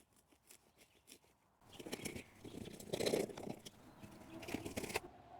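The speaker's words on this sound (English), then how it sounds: "I'm going to go ahead and start cutting" A clump of brunnera is cut apart for dividing: crisp snipping and crunching of stems and roots, starting after a quiet moment and continuing in uneven bursts, close and moderately loud.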